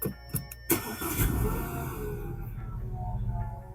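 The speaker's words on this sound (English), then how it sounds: "The first thing that you want to do is to turn on the vehicle" An Audi A5 car engine cranks and catches after a few sharp clicks, then settles into a steady, close idle hum.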